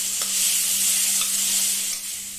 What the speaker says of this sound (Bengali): এগুলো একটু ভালোভাবে ভাজা হোক।